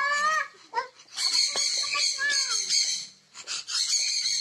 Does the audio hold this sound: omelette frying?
no